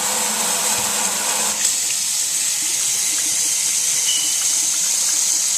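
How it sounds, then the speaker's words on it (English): Kitchen faucet with heavily corroded fixtures running steadily into the sink, a continuous broadband rush of water holding level for several seconds, close and fairly loud with no talk over it. "Kitchen faucet works."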